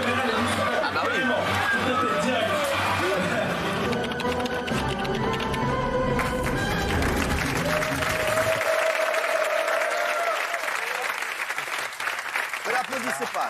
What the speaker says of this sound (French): Ne l'applaudissez pas, ne l'applaudissez